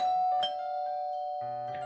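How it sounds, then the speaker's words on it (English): Two-tone doorbell chime in the video game Doki Doki: Fallen Angel, a clear electronic ding followed by a lower, fuller dong, both ringing out steadily and loud with no talking. "I press against the doorbell."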